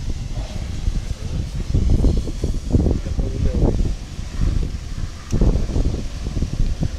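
Wind buffets the microphone outdoors during a draw for a regional mini-football championship, making a steady low rumble that swells in gusts and then eases, with no other clear sounds.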